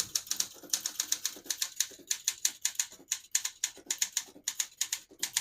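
A 1969 Olympia SM9 portable typewriter being typed on, its keys striking in quick, uneven bursts of crisp clacks with short pauses between runs, close and clear with no voices.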